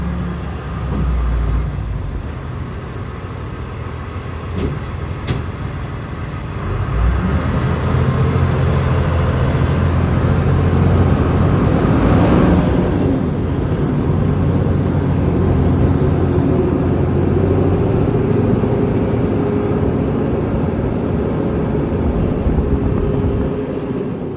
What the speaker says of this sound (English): I gotta reverse here for a second, try and get these wheels to pop it back in.